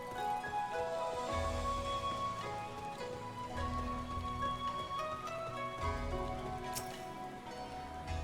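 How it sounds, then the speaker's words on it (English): Steady rain falls in Eorzea, the setting of the online game Final Fantasy XIV, as a soft, continuous patter that stays faint and even, with no voices over it. "it's raining there in Eorzea, and it's raining here"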